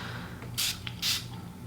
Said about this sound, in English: I'm just gonna spray a little bit with the Lucent Hydrolot